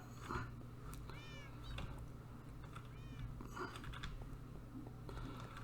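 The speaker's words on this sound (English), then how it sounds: "Come on, cat." A Minecraft cat meows a few times, short rising game meows at moderate volume over a steady low background hum, with some faint clicking like keyboard keys.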